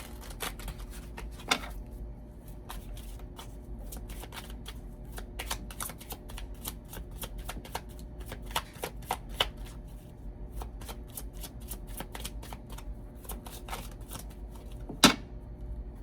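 Oracle cards being shuffled for a reading: a quiet, steady run of soft papery riffles and taps over about sixteen seconds, with one sharper slap near the end, close and without talk.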